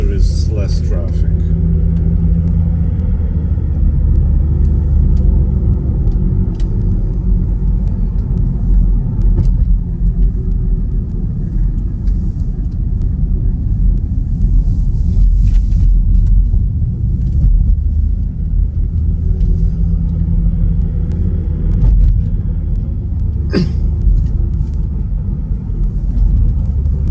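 Inside a car driving a Polish road at night, a steady low engine and road rumble holds throughout, loud and constant, while a person talks over it.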